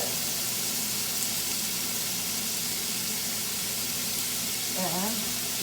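Food frying in a tablespoon of oil in a pan for spaghetti carbonara, a steady soft sizzle and hiss throughout with a brief faint tonal sound near the end.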